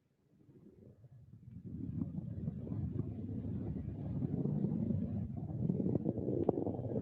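Northrop Grumman NG-15 rocket engines roar during a launch as a deep, rumbling broadband drone that swells steadily from silence and holds strong and continuous, heard alone.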